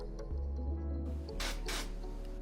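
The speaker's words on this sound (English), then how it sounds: "gave it a little zhoosh with some activator spray in between coats" Short bursts of CA glue activator spray hiss over a steady low hum while coats are applied to a ring made from old comic books, two quick sprays close by with no talk.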